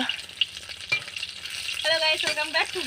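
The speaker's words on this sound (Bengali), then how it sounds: "বৌদি এখন মাছ ভাজছে" Fish fries in a pan with a continuous close sizzle and spattering, with a few stirring scrapes and some faint background voices.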